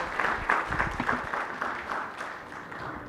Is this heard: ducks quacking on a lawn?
no